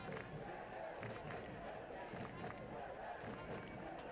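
Home supporters behind the goal at a Forward Madison FC soccer match chant and cheer as a faint, steady crowd roar beneath a commentator's voice.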